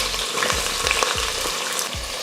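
Sliced onions, green chilies, bay leaves and whole spices sauté in hot oil, a loud continuous frying hiss with soft rhythmic stirring thumps from a spoon, no one speaking.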